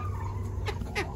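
Naked neck chickens and a Duclay rooster on a Florida farm make two brief clucking calls over a constant low hum, fairly faint and a little distant.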